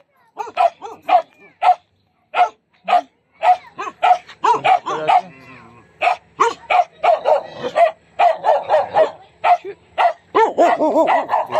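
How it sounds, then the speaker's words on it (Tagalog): Several dogs bark in quick, repeated bursts close by at a riverside rural home with stairs and a fence, with some whimpering and a few yips mixed in, with no talking. "May mga aso."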